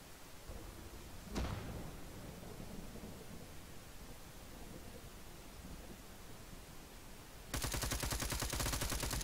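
A frag grenade blows up in the military shooter Arma 3, a single loud, booming blast that rolls away under a dull outdoor wash, later overtaken by a rapid, rattling burst.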